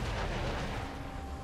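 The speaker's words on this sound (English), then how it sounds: "Blue team's turret has been destroyed." Turret destruction in League of Legends, a dense crumbling explosion with a heavy rumbling low end that fills the short moment, loud and close.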